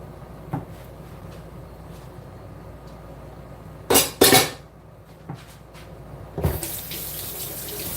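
Water from a tap splashes in two loud bursts near the middle, then pours again steadily toward the end, with faint kitchen clatter in between.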